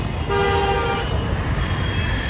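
Delhi road traffic near Chhatarpur metro station in a jam, one long car horn blaring for about a second over a low, constant rumble of engines.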